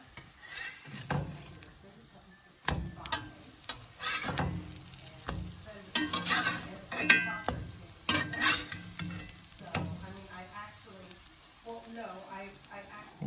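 Meatless sausage patties sizzle steadily in a pan while a utensil stirs and scrapes, with occasional clinks of cookware.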